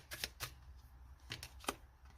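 Tarot cards being drawn and handled during a reading, with several brief papery slaps and slides spaced apart, close and fairly quiet.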